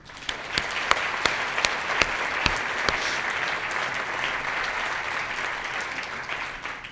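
A conference audience breaks into applause for the speakers, a dense sustained clapping with a few sharp individual claps up front, steady and fairly close, fading slightly at the end.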